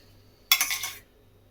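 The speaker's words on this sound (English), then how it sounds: "So we're just going to spoon the garlic butter over it." A metal spoon scrapes and clinks against a dish while garlic butter is spooned over a homemade pizza, one brief clattering half-second in a quiet room.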